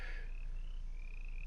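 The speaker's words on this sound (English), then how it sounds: "I hear a frog somewhere out there" A frog croaks somewhere out in the wilds of Shoshone National Forest in Wyoming, a faint, thin call repeating a few times over a steady low outdoor hum.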